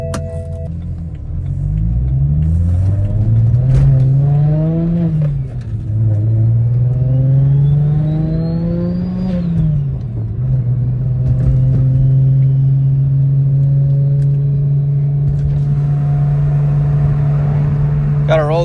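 Two single-turbo BMW 335i cars accelerate on a night drive, with the engine note rising through gears, dropping at shifts and settling into a steady loud cruising drone, with no talk.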